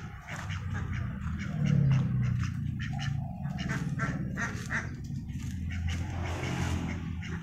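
Several ducks quack close by in a noisy, overlapping chorus, with louder calls bunching together early on.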